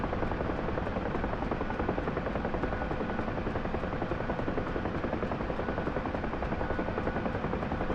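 A Mi-8 helicopter in the DCS flight simulator, a continuous dense rotor and turbine drone with a fast steady blade chop, even and loud throughout, no talking.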